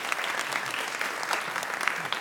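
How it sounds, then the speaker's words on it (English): A conference audience applauds its moderators and panelists at a health insurance policy event, steady and fairly loud clapping from many hands that continues evenly throughout. "a round of applause for these incredible moderators and panelists"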